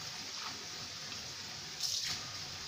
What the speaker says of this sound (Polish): dolewam teraz wody